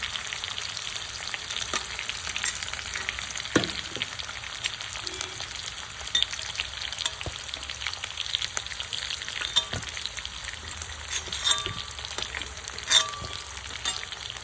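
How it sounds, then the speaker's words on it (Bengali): Potatoes frying in oil in a pan for a Bengali pangash fish curry, a steady close crackling sizzle throughout with occasional sharper pops and light stirring clicks, no talk. "এই দেখুন আলুগুলো অল্প ভাজা ভাজা হয়ে গেছে"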